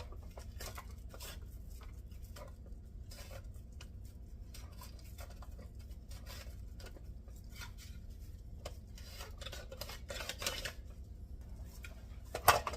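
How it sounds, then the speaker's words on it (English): Quiet, repeated scraping strokes of a mandoline slicer cutting vegetables into uniform slices, steady and rhythmic, with faint kitchen clatter. "I have an actual mandolin that I got out to do this with. So I can have nice uniform slices"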